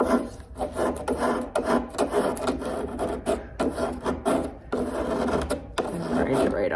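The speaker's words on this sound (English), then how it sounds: "I like to use a file to just hit the edge" A hand file rasps steadily along the edge of a mahogany corner cabinet being repaired and refinished, loud and close, in repeated back-and-forth strokes with brief pauses between passes.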